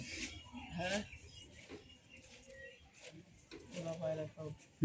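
Pigeons in a coop give soft throaty coos in short repeated phrases, close by, mixed with people talking nearby.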